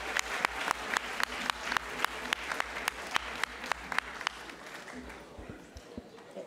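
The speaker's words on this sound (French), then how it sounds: "on vous applaudit, tous les applaudissements" Audience applause at a French talk event on the sea and the media, a dense run of clapping that fills the room and then thins out and fades toward the end.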